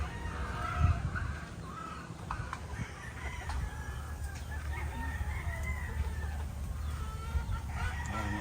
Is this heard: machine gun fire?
no